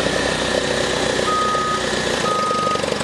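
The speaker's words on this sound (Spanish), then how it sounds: "Ponemos la reversa. Tenemos otra reversa. Ahí nos damos cuenta que la alarma sí funciona." A Caterpillar GP25 sit-down forklift's reverse alarm beeps steadily and loudly at close range over the constant hum of its idling engine.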